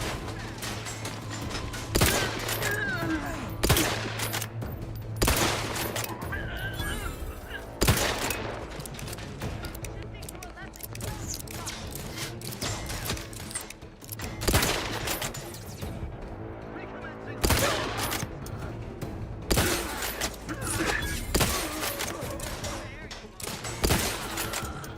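Repeated bursts of gunfire and weapon mechanisms in The Outer Worlds 2 video game crack loudly over a busy combat soundscape, with game voices talking at times.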